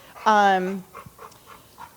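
A dog at an animal rescue lets out a short, high whine, followed by a few soft, rhythmic panting breaths close by.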